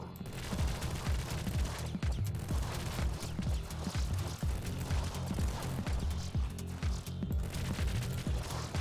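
Twin miniguns firing nonstop in the video game Nuclear Throne, a dense rapid hammering of low gunshot thumps in a steady driving rhythm, loud and continuous throughout.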